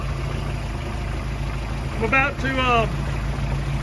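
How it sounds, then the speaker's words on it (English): A Mercruiser 3.0 liter four-cylinder marine engine idles steadily on a test setup with the outdrive not yet installed, a constant low hum running throughout while someone speaks briefly near the end. "I'm running the engine on water"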